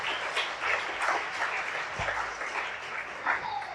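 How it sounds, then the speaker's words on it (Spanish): A church congregation at a Spanish-language worship service applauds, a sustained, even wash of many hands clapping for several seconds, moderately loud and without speech over it. "dele una ofrenda de palmas al Señor"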